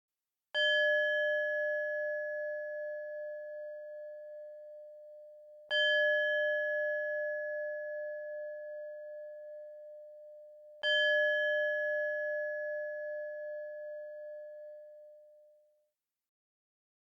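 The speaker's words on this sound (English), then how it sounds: "As the session is coming to a close, I'll ring my singing bowl. On the third chime, you can gently open your eyes." A singing bowl rings three times at slow, even intervals to close a guided meditation, each strike a clear sustained tone that lingers and slowly fades before the next, with no voice over it.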